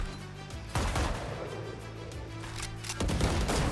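Rapid bursts of rifle fire from Valorant, loud and sharp over a dense background, with two heavier volleys about two seconds apart.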